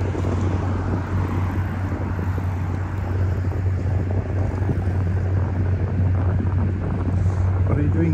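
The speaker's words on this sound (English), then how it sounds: "Getting a bit windy up here." Wind buffets the microphone during an outdoor morning walk near Osaka Castle in Japan, a constant low roar with a steady hum beneath it throughout.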